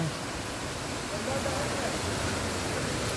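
Mother Falls at Abungan Falls in Dingalan, Aurora: a constant broad rush of falling water fills the short stretch evenly, with no other distinct sounds standing out.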